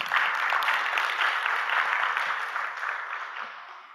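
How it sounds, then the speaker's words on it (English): An audience at a labour convention claps for a professor, a dense, steady wash of many hands that holds loud throughout and fades slightly at the end. "Give the professor another big hand clap."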